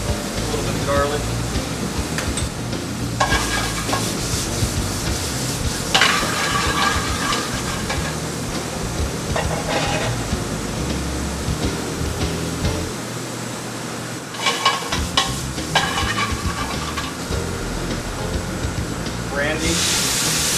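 Garlic sizzles in a hot pan while it is stirred, a loud, continuous frying hiss broken by scraping bursts, with a voice speaking now and then over it.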